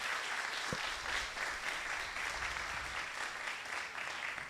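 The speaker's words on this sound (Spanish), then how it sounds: "¿Qué tal si le damos un aplauso al que puede hacerlo en nuestra vida?" A church congregation applauds together, a steady broad wash of clapping that stays loud and even throughout with no talk over it.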